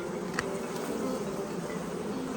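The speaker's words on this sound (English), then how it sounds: "There's an absurd amount of bees in here." Dense, steady buzzing of many honeybees close by inside an open hive during a heavy honey flow, a continuous droning swarm with no voices.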